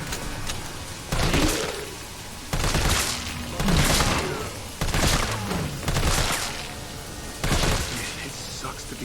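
Gunfire in the Resident Evil 3 Remake video game: several loud bursts of shots spaced a second or two apart, each with a sharp crack and a booming tail, over a steady game soundscape.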